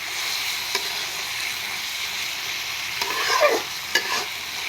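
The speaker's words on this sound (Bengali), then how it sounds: "এই যে হালকা করে কষিয়ে নিচ্ছি।" Food being stir-fried and sautéed in a pan before water is added: a steady close sizzle runs throughout, with brief scraping stir strokes near the end and no talking.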